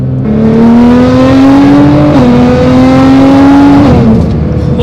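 A Nissan GTR with a freshly fixed transmission accelerates hard, its loud, close engine note climbing steadily through gears with brief drops at the shifts, no voices over it.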